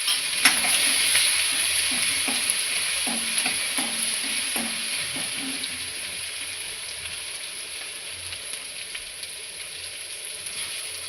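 Cumin with ginger-chili paste fries in hot oil, a bright steady sizzle heard up close, with a spoon stirring and tapping the pan in a rhythmic series of knocks over the first half.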